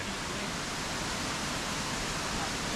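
A waterfall beside a hiking trail on a ski descent gives a steady, dense broadband rush of falling water, constant and moderately loud throughout with no distinct events.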